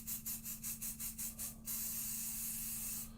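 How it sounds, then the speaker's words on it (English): Pixie spray is misted onto a craft background in a rapid series of about eight short, soft hissing bursts, then one longer continuous spray. The sound is close but quiet, with a steady low hum underneath. "So I'm going to grab a little bit of pixie spray"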